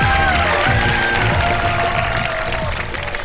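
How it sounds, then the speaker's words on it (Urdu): A studio audience applauds on a televised Ramadan sehri programme: dense, steady clapping at close range that fills the moment without a break and fades slightly at the end. "تالیاں ہو جائے گا ذرا."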